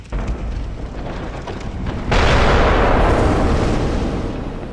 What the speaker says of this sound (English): He has a cannon, so you really want to watch that.